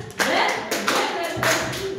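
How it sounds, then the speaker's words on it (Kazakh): Schoolchildren in a classroom clap together in a few loud, uneven bursts of applause, with a teacher's voice faintly underneath. "Шапалақтаймыз"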